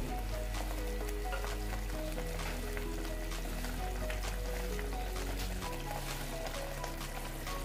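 Spices, ginger, garlic and onion sauté in a pan for Afghani chicken, giving a steady, close sizzling hiss that runs unbroken throughout with no talking.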